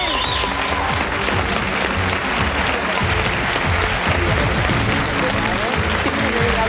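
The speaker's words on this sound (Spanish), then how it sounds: "Un aplauso." Studio audience applauding on a Spanish television quiz show during the final round, with dense, loud, steady clapping that fills the whole stretch without a break.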